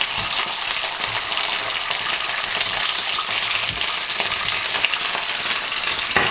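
Watery vegetables for an antipasti platter fry and splatter in hot oil on a stove, producing a dense, continuous crackling sizzle with scattered sharper pops, close and loud throughout, with no talking.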